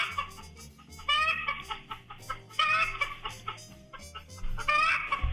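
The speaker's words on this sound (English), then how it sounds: "One of my chickens, so it doesn't always happen when they lay an egg, but once a blue moon, they make like a really funny song." A hen breaks into a rare, drawn-out song after laying an egg, a loud run of repeated clucking and squawking calls rising and falling in bursts, close by and without talk.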